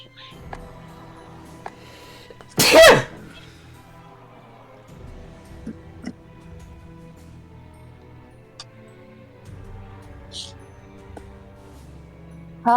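A single loud, sharp sneeze bursts out early on, close to the microphone, against a quiet room background with only faint scattered ticks and clicks afterward.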